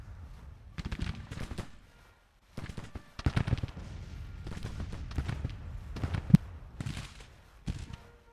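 Musket volleys and cannon fire crackle across a Civil War battlefield in Grand Tactician: The Civil War, with ragged bursts of gunfire rolling in waves and a few sharper single reports.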